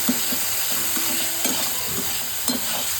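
Chopped tomatoes frying with onion in a pan for paneer bhurji, a loud, close sizzle with repeated spatula scrapes and stirring knocks and no speech.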